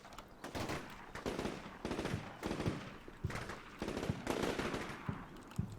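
Video game gunfire as men on a second floor open up on a target: loud, sustained automatic bursts in quick rhythmic volleys, with no talking over them.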